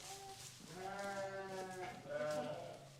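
Several sheep bleat close by during lambing on a farm with Jacob sheep, their wavering, harmonic cries overlapping in a few long calls over a quiet barn background.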